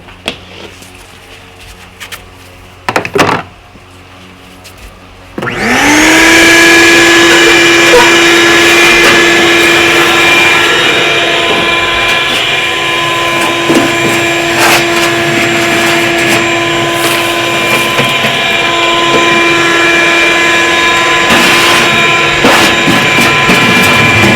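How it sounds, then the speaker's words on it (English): After a few bumps and knocks, a shop vac starts up and runs loud and steady, cleaning ash out of a Cabela's Pro Series 36-inch elliptical pellet grill, its high whine unbroken with small shifts as debris is sucked in. "I grab the shop vac and I clean this out"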